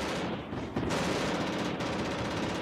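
Rapid automatic machine gun fire in the shooter game Heavy Fire: Shattered Spear, loud and close, running in dense bursts with a brief gap near the start.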